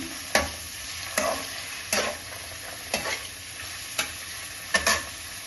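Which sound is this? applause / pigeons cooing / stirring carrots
stirring carrots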